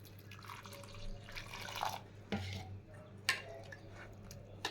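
Water is poured and mixed into a kochu pata (taro leaf) mixture, giving soft wet squishes and drips in a quiet kitchen, with a couple of sharper splashes.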